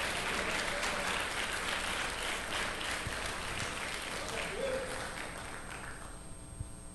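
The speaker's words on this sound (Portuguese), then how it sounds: "Pode aplaudir mais forte para Jesus." A church congregation applauds during a Portuguese-language sermon, a dense wash of clapping from many hands. It is moderately distant and gradually fades toward the end, leaving a quieter tail.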